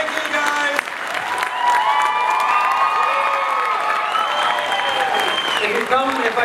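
A convention crowd at a comic con Q&A breaks into sustained applause mixed with cheers and whoops, loud and continuous throughout, with shouted voices rising above the clapping.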